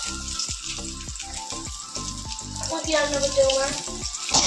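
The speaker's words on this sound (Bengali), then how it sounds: "পটলগুলো ভাজা হয়ে গেল আমার প্রায়" Pointed gourd (potol) frying in a pan makes a soft, continuous sizzle under voices talking and a rhythmic thumping in the background.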